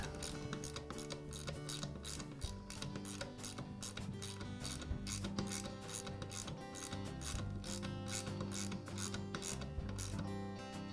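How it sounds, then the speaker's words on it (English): Lock nut being tightened onto the armature of a Skil circular saw, giving a steady run of rapid mechanical clicks and ratcheting ticks, close and fairly quiet, with no talking. "I'll secure everything with the lock nut"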